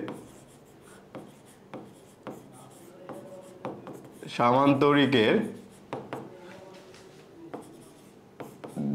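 Chalk or marker taps and scratches against a board as the parallelogram law is written, with short strokes throughout, a longer dense rubbing burst in the middle, and a voice talking quietly in between.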